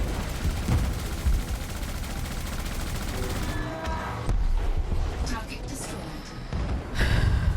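Weapons fire in Elite: Dangerous, loud, dense bursts of shooting running throughout with short breaks, a voice speaking over parts of it.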